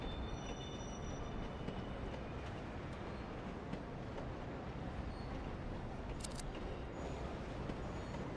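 Trains in the Railgrade video game rumble continuously with a dense rolling rail noise and faint wheel squeals, steady and unbroken throughout.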